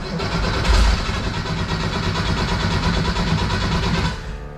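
A 1974 Porsche 911 RSR IROC tribute's engine turns over with a steady mechanical whir for several seconds, cranking continuously before the sound drops off near the end.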